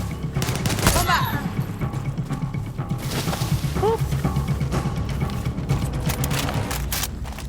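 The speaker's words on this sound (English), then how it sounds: "where are they shooting from?" Video game gunfire in an abandoned lawless city, rapid bursts and scattered shots layered over busy game noise, with someone talking excitedly over it.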